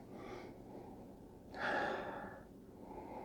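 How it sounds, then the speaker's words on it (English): A soft, close sniff of Brooklyn Lager beer: one faint intake of breath early, then a longer, stronger inhale through the nose, with quiet background between. "So as I take a sniff of the aroma"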